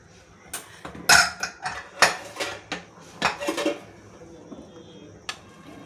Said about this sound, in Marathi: आपण याचं झाकण काढून घेऊया.